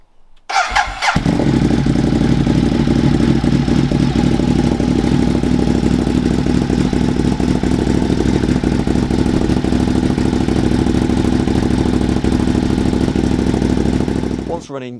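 A motorcycle engine fires up and settles into a steady, loud idle close by, running evenly for most of the time.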